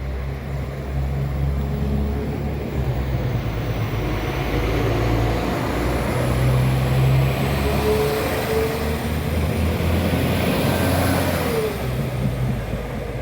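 A Class 195 diesel multiple unit departing Crossgates station for York, a loud, steady low engine rumble and rising drone with faint tonal whine, no voices.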